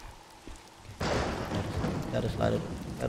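Steady rain in the video game Days Gone hisses in, starting abruptly and continuing as a dense wash, with scattered brighter spatters over it.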